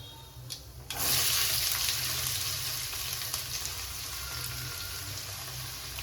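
Chopped onions tossed into hot oil with mustard seeds and chana dal, giving a sudden loud hiss that settles into a steady close sizzle and keeps going without any voice.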